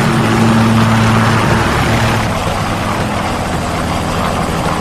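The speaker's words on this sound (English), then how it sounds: "I'm protecting you over here with my" Helicopter in a video game, a loud, steady rotor-and-engine drone with a throbbing low hum that fills the whole stretch and eases a little in the second half.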